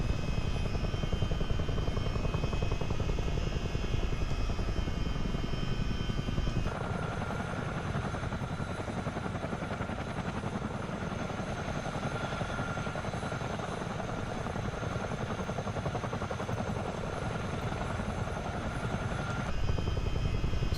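A CH-47D Chinook helicopter in a flight simulator game gives a steady, continuous rotor and turbine drone that holds level throughout, with no talking.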